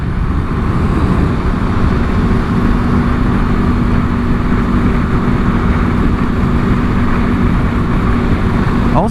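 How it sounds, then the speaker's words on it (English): Road noise from riding alongside a 1987 Mazda RX-7, a loud steady engine drone and rushing wind and tyre roar that stays constant throughout, with no talking. "87 RX-7, very cool. You don't see those on the road too often."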